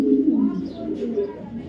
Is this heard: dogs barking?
no